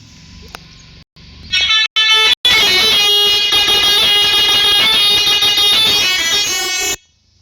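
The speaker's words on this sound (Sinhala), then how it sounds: "මම පළවෙනි හෝන් එක ඔයාලට පෙන්නන්නම්" A vehicle horn sounds in a few short toots, then holds in one long, loud, steady blast lasting several seconds before cutting off.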